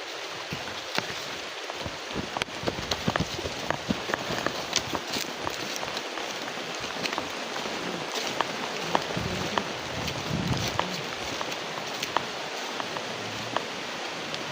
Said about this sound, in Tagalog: medyo malakas po yung ulan ngayon